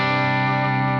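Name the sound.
Harley Benton electric guitar clean tone through Quad Cortex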